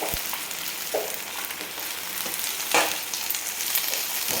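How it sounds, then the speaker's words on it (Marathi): Amaranth greens dropped into hot oil crackle and sizzle loudly up close, with a steady frying hiss and a few bursts of louder spattering. "आता आपली भाजी टाकणार आहे।"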